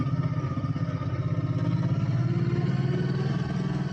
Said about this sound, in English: Other motorcycles.